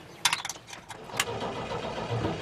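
A 1961 GMC 5000 truck engine cranks over with a few sharp clanks, then catches and settles into a low, steady rumble close by.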